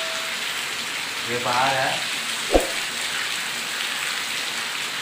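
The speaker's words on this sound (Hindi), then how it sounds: "पूरा बारिश हो रहा है, आप लोग देख सकते हैं कितना बारिश हो रहा है बाहर में" Heavy rain pours outside at night with a continuous, even hiss. Someone speaks briefly over it, and a single sharp knock cuts through midway.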